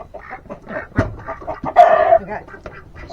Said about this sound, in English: I got chickens clucking.